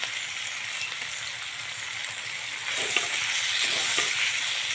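Potatoes frying in oil in a pan over a low flame give a continuous soft sizzle, which grows a little louder and busier halfway through, with no one speaking.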